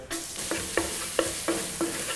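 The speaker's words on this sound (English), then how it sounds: "then we'll get our garlic going" Garlic fries in a pan for honey walnut shrimp with a soft steady sizzle, broken by about five evenly spaced scraping stirs of a utensil, close up and with no talking.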